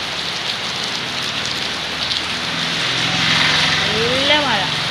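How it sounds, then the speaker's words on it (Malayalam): Heavy rain pours down steadily in a dense, constant hiss, with a few brief whistling or chirping sounds rising near the end. "നല്ല മഴ."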